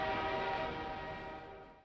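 Train in the game Half-Life 2, a steady loud rumble with sustained horn-like tones that holds throughout and fades slightly before cutting off at the end.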